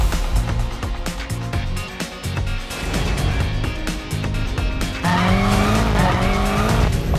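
A 2011 BMW M5 is driven hard on a track, its engine roaring and revving through gear changes while the tires squeal repeatedly, loud and close throughout with no talking.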